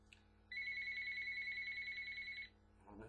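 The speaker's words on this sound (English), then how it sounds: "And now my phone's about to ring." A mobile phone rings with a single two-second warbling electronic tone, clear and close in an otherwise quiet room.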